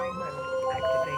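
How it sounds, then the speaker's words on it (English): A UK ambulance siren switches on and wails steadily nearby, a tonal rising and falling note over low vehicle noise, with no voices. "Can you put your lights and sirens on just quickly to see if the patient can hear them?"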